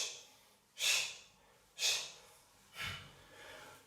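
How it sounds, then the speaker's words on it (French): Three sharp, forceful breaths roughly a second apart during a circuit training exercise, with a softer intake trailing after the last, close and clear with no talk. "je souffle, j'inspire, je souffle."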